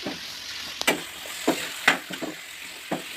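Chicken with ginger and garlic fries in hot oil in a pan, a continuous sizzle broken by several sharp stirring scrapes and clatters, close and alone.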